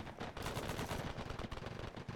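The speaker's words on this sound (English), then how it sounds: "Mortar fire." Mortar and gunfire in the Arma 3 video game, a dense, loud, continuous rattle of rapid automatic shots with heavy booms mixed in, close and unbroken.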